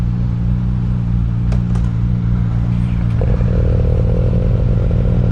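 A Suzuki GSX-8TT motorcycle cruising at an easy pace, its engine droning steadily and loudly throughout with a rising note toward the end, plus a couple of brief clicks or clatters midway; no talking.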